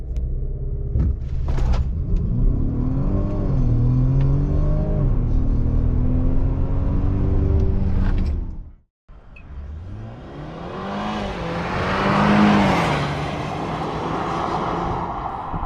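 2022 Range Rover Velar P400e plug-in hybrid SUV accelerating hard, engine note climbing through rising gears, a brief gap, then another loud surge of revving and road rumble.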